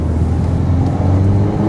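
Ferrari 488 GTB engine pulling under light throttle, a steady low drone with rising harmonic tones, heard close from inside the car with no talk.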